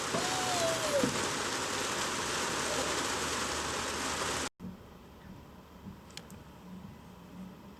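Steady rain falling outdoors over a city garden, a dense broadband hiss that cuts off abruptly partway through, followed by a quieter background with faint scattered sounds.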